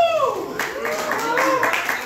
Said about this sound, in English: Give a round of applause for your bartender.